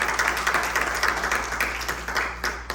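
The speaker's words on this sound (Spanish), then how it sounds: "¿Me pueden regalar un aplauso para la hermana?" A congregation gives a brief round of applause, a moderate patter of overlapping claps with pulsing rhythm, continuing evenly for a few seconds without speech.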